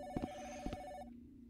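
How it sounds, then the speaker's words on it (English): A telephone rings in the Phantom Dial video game, two quick electronic trills with a steady tone beneath them, then the ringing cuts off into quiet. "Answer the phone."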